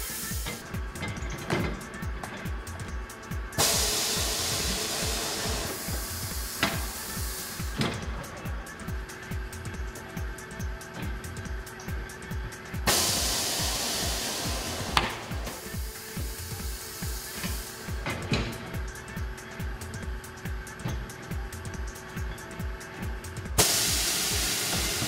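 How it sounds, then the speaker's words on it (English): A TWIN BUSCH TW X-98 tyre changer's bead breaker works a tyre loose from its rim with repeated pneumatic hisses and blasts, mechanical clunks, and a steady rhythmic motor hum in a workshop. "Here we see how the bead breaker pushes the tire bead over the hump."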